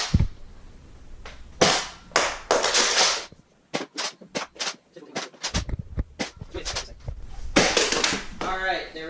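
Nerf Rival Helios blaster firing a rapid string of sharp snapping shots, close and punchy with uneven spacing, followed by a brief voice at the end.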